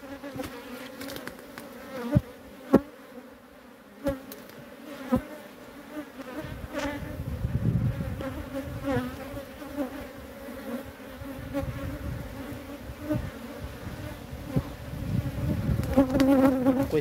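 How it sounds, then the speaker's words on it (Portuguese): Swarm of small bees flying around a honeycomb on a cliffside rock, a continuous close buzzing drone with occasional sharp taps and rustles, no speech. "E as abelhas, pessoal, aquelas abelhas miudinhas voando, tá vendo?"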